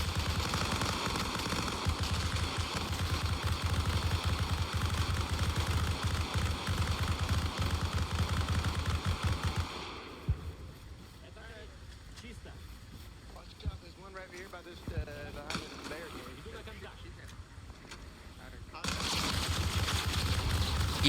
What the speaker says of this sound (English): there are gunshots all around me